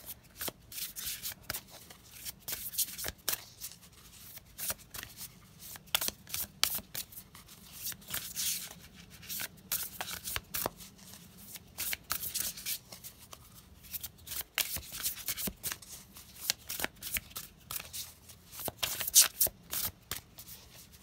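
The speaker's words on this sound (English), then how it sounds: "I love the sound of cards shuffling." Repeated crisp riffling bursts of tarot cards being shuffled, close up, in quick irregular runs with brief pauses between them, no voices.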